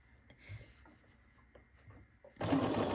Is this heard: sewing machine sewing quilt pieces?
yes